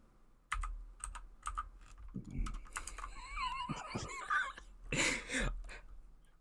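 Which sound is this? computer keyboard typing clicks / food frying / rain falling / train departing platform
computer keyboard typing clicks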